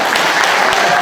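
An audience at a lecture during a foundation launch event claps in a dense, continuous burst of loud applause, briefly and close.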